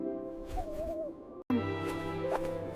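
Owl hoots sound in a children's bedtime story, soft tonal hoots repeating close and clear over a quiet background, broken by a brief cut near the middle.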